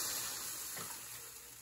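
A tiny splash of water sizzles in a very hot pot on a stove, a steady broadband hiss that holds fairly loud throughout and tapers off slightly toward the end.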